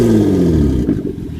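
A Hyundai Sonata with its muffler deleted revs up loudly nearby, a rising raspy engine note that drops off quickly into a rough, burbling idle.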